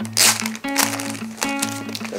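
Plastic packaging crinkles in short bursts while a gate remover set is unboxed, up close and alone, though a steady tonal hum from another source runs underneath.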